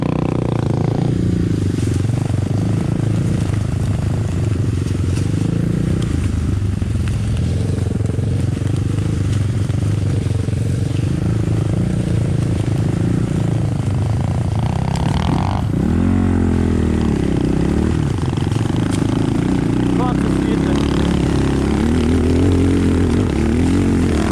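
Geon 300, BSE 250 and Skybike 250 motorcycles ride through a forest, their engines a loud, steady droning rumble throughout, with a shift in pitch and throttle partway through as the bikes change pace.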